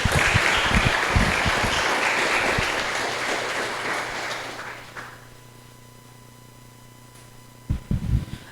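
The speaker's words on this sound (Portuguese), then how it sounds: "Aplaude o Senhor Jesus." A church congregation at a seminar applauds loudly in a dense burst of clapping that fades out over about five seconds, leaving a quiet hum before a few scattered claps return near the end.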